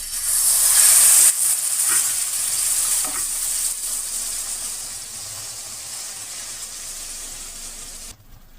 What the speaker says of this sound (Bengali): চিংড়ি মাছগুলো হলুদ আর নুন দিয়ে মেখে রেখেছি, দিয়ে তেলে ভেজে নেব